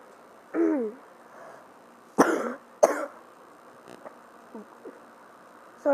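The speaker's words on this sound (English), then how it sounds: "Sorry for coughing." A person coughs in a short burst near the mic, followed by two sharp, louder coughs a moment later, then a few faint throat noises and clicks in a quiet indoor room.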